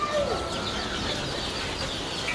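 Free-range country chickens cluck softly on a farm in Andar Maval, Pune, faint calls blending into a constant background hum with no talking.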